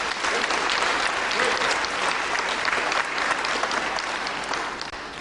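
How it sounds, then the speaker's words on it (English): A crowd at a wrestling match applauds steadily, a dense, loud wash of clapping that holds throughout and eases only slightly at the close. "the crowd are going to applaud the young Birmingham lad"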